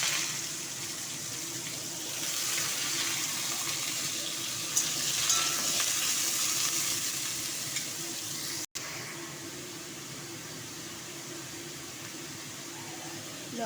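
Bottle gourd pieces drop into hot oil seasoned with bay leaf, dried chilli and cumin, giving a steady, moderately loud sizzle that carries on throughout with a brief break, no talking.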